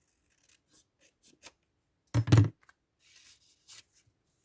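Scissors snip through scrapbooking material in one short, close double cut, with faint rustling of paper handled before and after.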